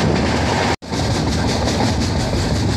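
A passenger train runs at speed on a line under electrification work in India, a loud continuous rumble and rail roar with a brief dropout near the start, close and steady throughout.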